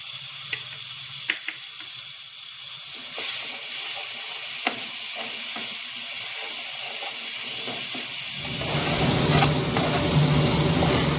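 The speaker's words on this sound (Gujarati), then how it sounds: "લસણની પેસ્ટ સાતળવાની છે, જેથી કરીને લસણ કાચું ન રહે" Garlic paste sautéing in hot oil with asafoetida, turmeric and chilli, a steady sizzling fry with occasional stirring clicks, swelling into a louder, denser crackle near the end as more goes into the pan.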